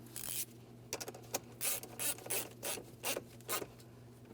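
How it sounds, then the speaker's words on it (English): A ratchet tightens the 10mm battery terminal mounting nut on a Ford Transit van, giving a close, quiet run of short clicking bursts in an uneven rhythm, about eight strokes over a few seconds with no talk. "We'll make sure that's secured by tightening our 10mm mounting nut."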